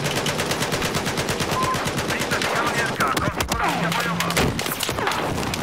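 Battlefield 4 combat around a tank, with rapid automatic gunfire rattling continuously and heavier blasts mixed in, loud and dense throughout.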